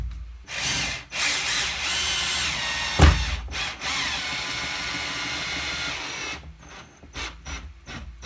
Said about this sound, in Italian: Provo ad avvitare e vedere se riesco a fermarmi al punto giusto.